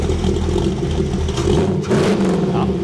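An American car engine at a car meet in Halden starts up and revs, a loud close rumble swelling through a couple of throttle blips, with people speaking briefly nearby.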